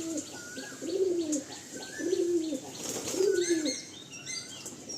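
Andhra pigeons in a home loft coo in three low, rolling phrases close by, with soft wing flaps and faint chirps from other birds around them.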